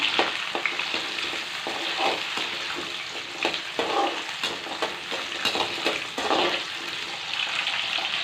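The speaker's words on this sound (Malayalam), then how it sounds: "നമുക്ക് ജസ്റ്റ് അതൊന്ന് വഴറ്റി കൊടുക്കാം" Peeled, unchopped ingredients sautéed in a pan for a green mango curry without coconut, a dense continuous sizzle with repeated rhythmic spatula scrapes and stirs throughout, close and fairly loud.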